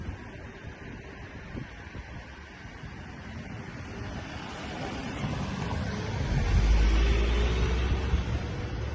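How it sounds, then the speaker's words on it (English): A small river flows steadily in an outdoor Tibetan setting, a soft continuous rush of water with some wind. It grows slightly louder and rumblier toward the end, and no one speaks. "Little river, it's not a very big river"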